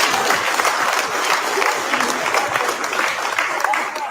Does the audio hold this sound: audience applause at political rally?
yes